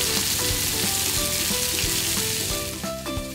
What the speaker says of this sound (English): A good sizzle.